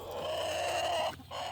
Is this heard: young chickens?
yes